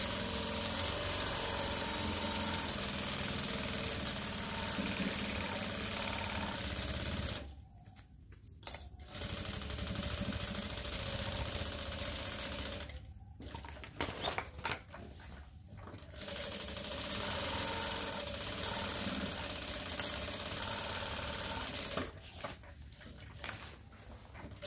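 A sewing machine stitches a toiletry bag in bursts of steady mechanical whirring, with short pauses between the runs.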